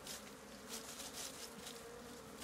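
A strong colony of Apis honey bees hums in a continuous buzzing drone during a honey harvest, faint but steady throughout with no voices.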